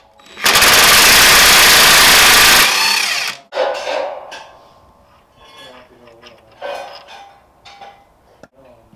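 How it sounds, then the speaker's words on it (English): Impact wrench with a 21mm impact socket removing bearing cap nuts, a loud close hammering burst lasting about two seconds, then trailing clinks and handling noise as someone speaks. "I'm using a 21mm impact socket because that's what I have available here"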